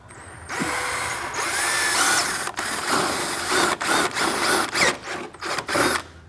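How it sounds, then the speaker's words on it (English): A power drill bores a hole near the radiator of a Yamaha YXZ side-by-side, whirring loudly and close, then sputtering in short stop-and-start bursts toward the end. "Be careful when you drill your hole because it'll try to pull you into the radiator."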